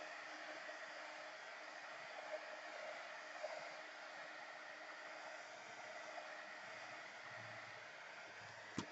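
Hair dryer blowing steadily over a mixed media painting, a constant close, faint whirring hiss with no breaks, ending in a click.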